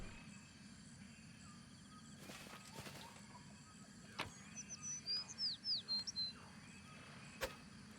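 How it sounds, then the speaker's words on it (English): A bird sings in the Pathfinder Kingmaker video game, giving a short series of high, quick chirps and whistled notes, faint over a low ambient hum, with a few soft clicks and knocks around it. "Okay, so the bird is still singing."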